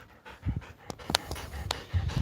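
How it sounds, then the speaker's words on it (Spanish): Dogs, including a puppy, scuffle nearby on a farm with quick panting, snorts and short yips in an uneven, agitated rhythm. "¡Pelea de perros!"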